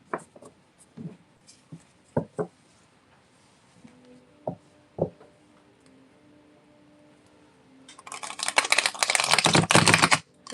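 A deck of tarot cards being shuffled: a few soft taps and clicks, then a dense, loud riffling burst near the end, close up in a quiet room.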